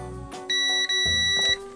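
A multimeter's continuity test sounds a steady electronic beep twice in quick succession, loud and close, with a brief break between them, while testing an audio cable.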